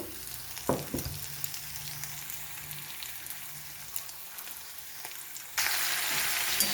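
Mixed vegetables for Bengali vegetarian shukto hit hot oil with cumin in a pan, giving a steady broadband sizzle with a few sharp clatters early on, then a sudden louder surge of frying near the end.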